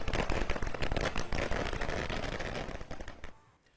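Fireworks set off by party workers at a street celebration in Pune, with a rapid, dense crackle of bursting firecrackers that fades out toward the end, heard at moderate distance.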